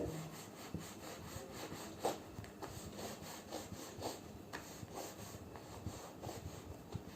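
Paper being cut with a blade along an iron scale during a paper craft activity, a steady rasping, scraping stroke repeated close up with a few sharper ticks, no voices.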